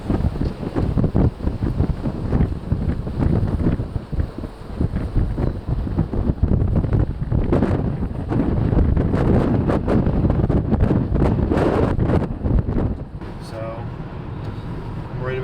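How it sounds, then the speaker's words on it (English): Strong wind of about 30 mph buffets the microphone with a loud, continuous roar and rumble, gusting for a long stretch before easing slightly at the end. "We got the worst case scenario, which is very, very, very windy."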